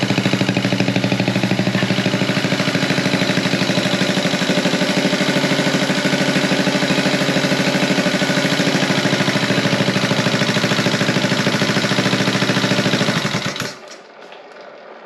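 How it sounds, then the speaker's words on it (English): Small 50cc Honda Z50A motorcycle engine, hot-wired to the coil, idles loud and close through its muffler with a steady rapid putter for about thirteen seconds, then cuts off abruptly into low background noise. "Listen to that muffler."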